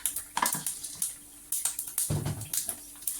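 Urad dal dropped into hot oil for a South Indian kuzhi paniyaram tempering, giving a steady crackling sizzle with brief pops and bursts, close and moderately loud, with no voices.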